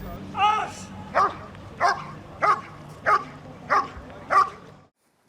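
A dog barks repeatedly at a canine club competition, seven evenly spaced, fairly loud barks about every half second apart, with a faint background hum and no voices over them.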